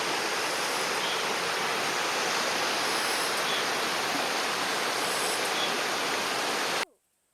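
A clean mountain valley stream at Yongso valley in Hongcheon, Gangwon-do, Korea, rushes as a steady, close, broadband wash of flowing water that cuts off abruptly near the end.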